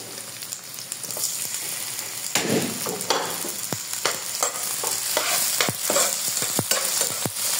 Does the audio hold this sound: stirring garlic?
yes